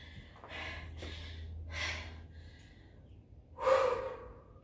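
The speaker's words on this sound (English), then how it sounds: "concentrating on the breathing" Heavy breathing after a set in a strength boot camp workout: a few loud, close gasps and exhales spaced irregularly over a soft background.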